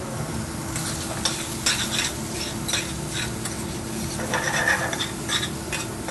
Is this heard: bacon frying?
yes